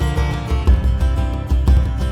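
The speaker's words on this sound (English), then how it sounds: "Compound meter has a sound like this." A brief stretch of music in compound meter with an Irish jig feel, with a lilting triple-grouped pulse and regular low beats, played loud and alone.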